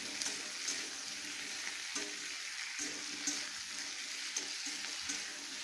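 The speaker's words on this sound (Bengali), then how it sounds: "আঁচটা বাড়ানো গেছে, এভাবে এটা ভাজা হবে।" Potatoes and capsicum fry in a pan on high heat, giving a soft, steady sizzle with regular stirring scrapes and light clatters, close and quiet, with no talking.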